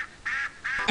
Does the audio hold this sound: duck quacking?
yes